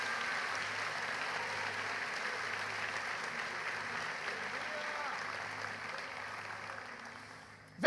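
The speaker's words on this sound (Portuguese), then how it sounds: "Quantos podem dar um aplauso bem forte a Ele e a sua palavra nesta manhã?" A church congregation claps during a Sunday morning sermon, a steady even wash of applause from a room full of people that holds for several seconds before a sudden loud sound at the very end.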